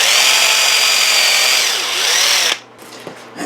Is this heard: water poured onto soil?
no